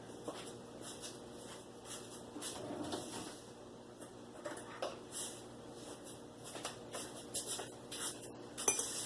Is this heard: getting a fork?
yes